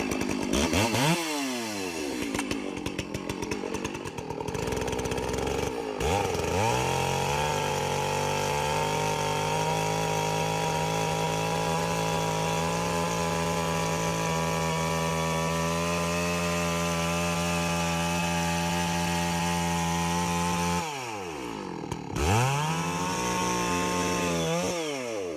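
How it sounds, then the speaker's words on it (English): A chainsaw felling a large tree revs up sharply, then holds a loud, sustained cutting whine for about fifteen seconds before dropping to idle and revving again, close and continuous with no voices. "Cutting down large trees with a chainsaw can be a dangerous task."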